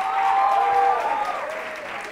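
An audience member claps during a televised spelling contest: a steady patter of applause that holds fairly even, then thins slightly toward the end, with no talking over it.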